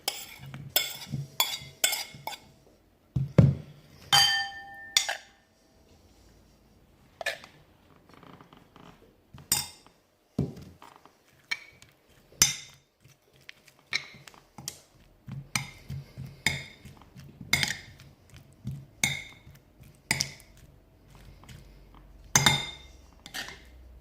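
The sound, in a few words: stirring apples into caramel in a pan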